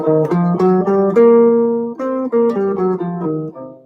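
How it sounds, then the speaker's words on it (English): A melodic instrument plays a minor blues scale, a run of clear single notes stepping through the scale in an even rhythm, with no talking. "The minor blues scale adds a passing tone, or a blues note we call it,"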